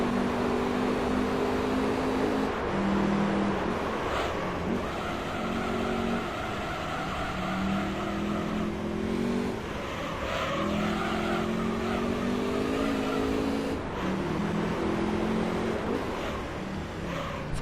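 A race car screaming around the Monaco street circuit in Gran Turismo 3: A-Spec, its engine note rising and falling through gear changes and braking into the hairpin, loud and continuous.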